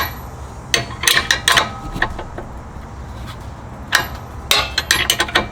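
Wrench loosening a nut on the suspension of an Audi B9 S4 during a lowering spring install, heard as several bursts of sharp metallic clanks and ratcheting clicks with a pause between clusters, fairly close.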